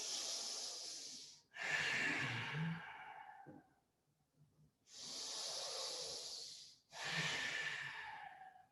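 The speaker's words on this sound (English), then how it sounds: "Deep breaths." Deep, slow breaths during a yoga class come in long hissing inhale and exhale cycles, close and clear, with a short quiet pause between pairs.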